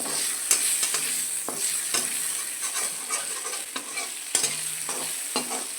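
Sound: prawns frying in a pan with salt and turmeric

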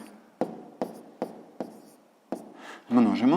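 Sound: writing numbers by hand for column multiplication

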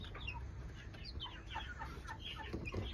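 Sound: chickens and chicks clucking

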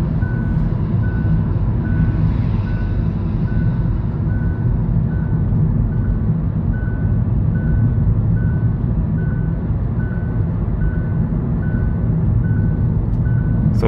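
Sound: Hyundai Ioniq lane keeping assist warning beeps

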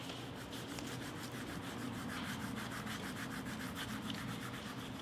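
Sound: rubbing over paper laid on a leaf

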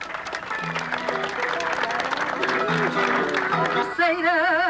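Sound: audience applause at a bullfight

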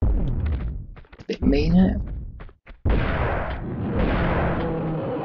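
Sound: shotgun firing in video game Tomb Raider 2

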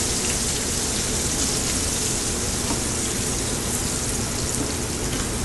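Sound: veal shank osso buco searing in a pan

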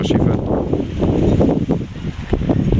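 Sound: wind blowing at lakeside

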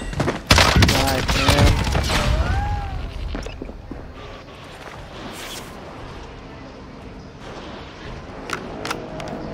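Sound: gunfire in a video game (Call of Duty Warzone Rebirth)

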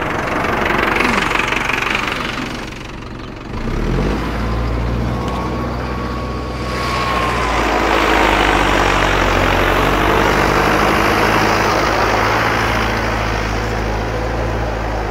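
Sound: Mahindra Arjun Novo 605 4x4 tractor diesel engine running

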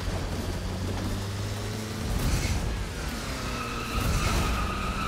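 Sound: car drifting in Roblox Driving Simulator video game

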